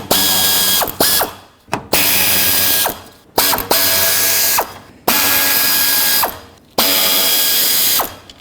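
A ratchet wrench backs out 7mm bolts holding the radiator fan wiring harness on a 2007-2010 Chrysler Sebring, loud and close, with rapid clicking bursts repeated about five times and brief pauses between them.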